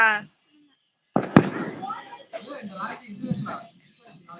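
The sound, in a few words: Diwali firecrackers bursting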